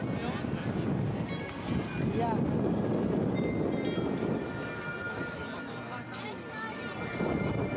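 Strong wind buffets the microphone at a Tokyo DisneySea harbor on New Year's, a steady loud rumble with gusts rising and easing, while a public address announcement and people's voices carry underneath.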